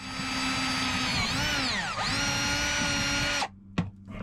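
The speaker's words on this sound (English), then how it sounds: "And then I can drill my hole" A power drill whirs loudly and steadily, drilling a hole aboard a sailboat, its pitch dipping twice under load before it stops, followed by a couple of brief clicks.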